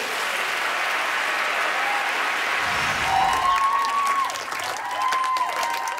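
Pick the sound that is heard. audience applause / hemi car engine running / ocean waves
audience applause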